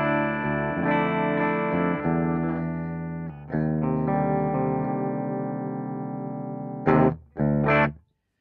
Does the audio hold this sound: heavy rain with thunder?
no